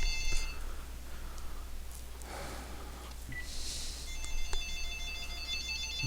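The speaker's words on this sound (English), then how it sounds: "I got up early to do this and the phone still rings." Telephone ringing in an office or study, electronic ring bursts repeating several times at moderate volume over a steady low hum, with no speech.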